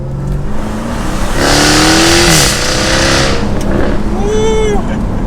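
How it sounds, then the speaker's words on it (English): A Jaguar F-Type R AWD with a V8 engine accelerating hard on a mountain road, its revs climbing loudly to a roaring peak before easing off, then rising again, with a brief voice near the end. "The first time I did a mini acceleration in this, I could not wait to really rip on that. Dude, it sounds so good. That is such a nasty V8"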